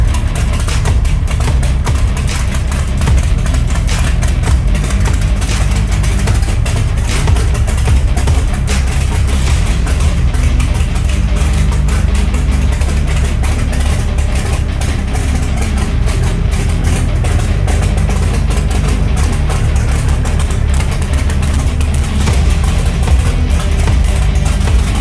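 NHRA Mountain Motor Pro Stock drag car engine with carburetors running at a steady, very loud idle, a dense low rumble that stays constant throughout with no talk.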